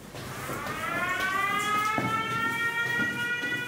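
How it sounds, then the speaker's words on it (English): Air raid siren in Ukraine wailing steadily with a rising, multi-toned howl, loud and continuous for several seconds with no voices over it. "The air raid siren goes off,"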